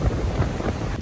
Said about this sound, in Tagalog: So medyo mahangin today.